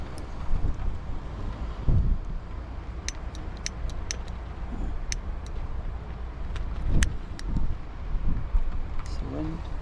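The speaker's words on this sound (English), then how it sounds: "It's the wind." Wind blows at Widemouth Bay in Cornwall, a steady low rumbling buffet across the microphone with occasional faint clicks and gusts, continuous throughout.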